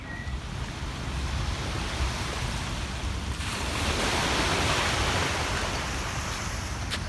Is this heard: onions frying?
no